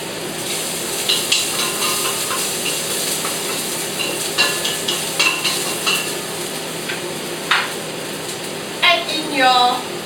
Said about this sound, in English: add in all your garlic. Try to get a nice fragrance.